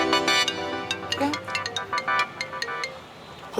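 A phone ringtone plays on and on in a scene from the Hindi TV drama Ek Duje Ke Vaaste 2, a bright repeating electronic melody with steady harmonic tones and short rhythmic notes, fairly loud and close, while someone speaks Hindi over it.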